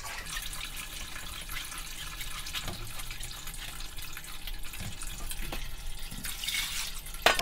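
Water is poured and swished through a sieve to rinse red bean pulp in a kitchen, a steady soft splashing and trickling with a few small clunks.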